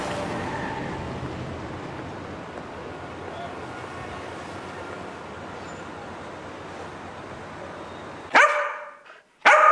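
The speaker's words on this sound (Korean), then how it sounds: "짖지마" A dog barks in a couple of sharp, loud bursts at the very end, breaking in after a long stretch of steady rumbling background noise.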